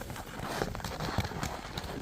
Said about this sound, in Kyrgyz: Зардалуу ат.